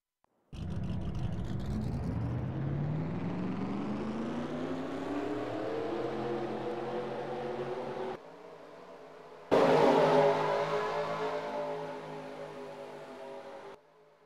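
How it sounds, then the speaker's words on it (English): Race car engines in a racing video game fire up and rev: one rising whine climbs steadily, drops off, then a second louder burst of revving swells and fades. "Drivers, start your engines!"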